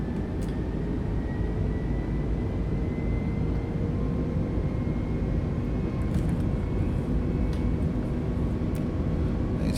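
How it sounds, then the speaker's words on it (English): An Airbus A320neo's jet engines roaring steadily during a rolling takeoff, heard from inside the cabin as a loud, constant broadband rumble with a faint whine above it. "so we'll do a rolling takeoff here"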